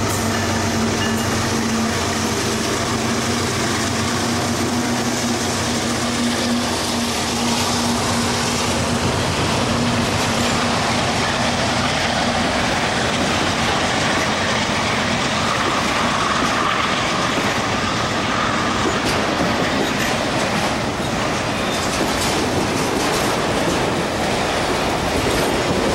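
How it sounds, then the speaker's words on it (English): A passing train rolls by close and loud, a continuous heavy rumble with steady clickety-clack of wheels on rails and a faint squeal, lasting the whole time with no talk. "Trains."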